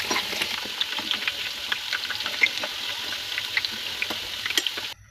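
Potatoes frying in oil in a home kitchen, a steady close crackling sizzle with scattered sharper pops throughout, cutting off abruptly at the end.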